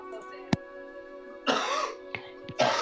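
A person coughs several times and clears their throat over a steady background hum, with a sharp single cough followed by longer harsh bursts and brief pauses between them.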